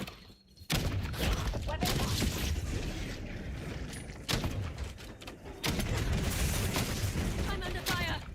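Call of Duty Black Ops 7 gunfire rattles in dense, loud bursts, nearly continuous with a few short breaks and heavy impacts mixed in.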